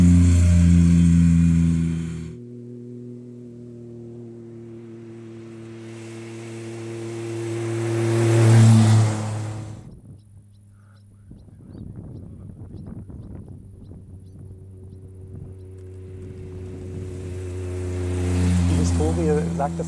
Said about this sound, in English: For us, this vehicle is a collector's car, which we also like to drive out for various events.